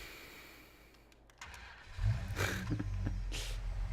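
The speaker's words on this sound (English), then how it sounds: "It has some very deep truck sounds, which I was not expecting" A modded truck engine in a video game cranks and catches after a quiet lead-in, then settles into a deep, loud rumbling idle with a brief rev.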